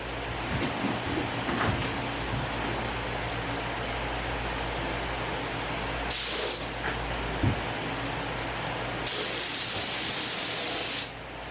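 Spray gun applying epoxy primer, with a steady close hiss of spray running under the whole stretch and two louder, brighter bursts near the end, no talk.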